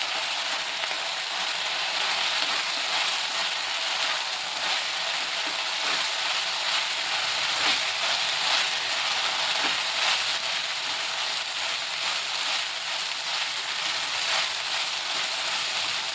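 Mixed vegetables for Bhogi chi bhaji stir-fry in a pan with a constant, moderately loud sizzling hiss and faint crackles, heard alone with no talking.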